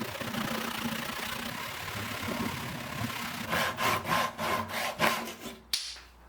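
A tree branch end being sawn off, heard as a rhythmic series of about seven rasping saw strokes after a stretch of low background hum, moderately loud and close.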